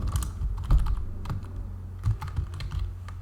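Someone types a short line on a computer keyboard, with rapid, close key clatter in uneven bursts and a few heavier thumps, like the space bar or enter key, with no talk.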